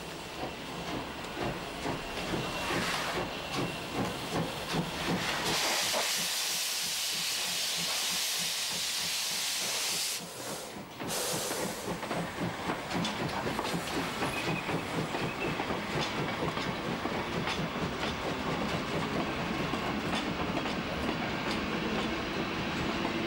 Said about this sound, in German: Im Sandwich dampften die beiden Lokomotiven sechsmal